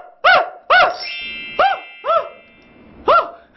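A voice imitates a dog's barking as a vocal training exercise for opera-style singing, five loud, separate bark-like cries with harmonic, pitched tone, spaced irregularly with short silences between.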